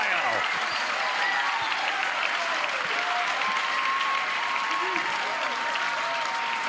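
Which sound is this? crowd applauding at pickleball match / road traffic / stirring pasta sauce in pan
crowd applauding at pickleball match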